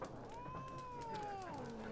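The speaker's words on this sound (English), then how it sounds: "Oh, cat." A cat meows in The Witcher 3: Wild Hunt, one long drawn-out plaintive meow with a falling pitch, heard over a soft ambient game background.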